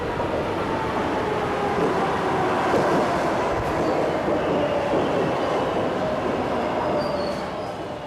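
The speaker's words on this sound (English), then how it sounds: "Patricia Massari catches the M train to downtown Manhattan." A New York M subway train runs steadily through a tunnel, a loud, continuous rumble and roar of wheels on rails with faint squealing, and no voices.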